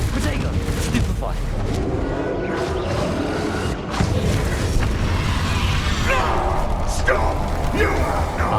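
A Confringo blasting spell detonates in the Hogwarts Legacy video game, heard as booming explosive bursts amid dense, continuous combat noise, with a voice talking over the action.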